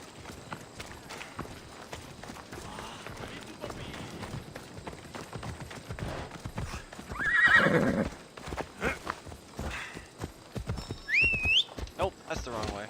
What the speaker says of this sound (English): Come to me, fire horse.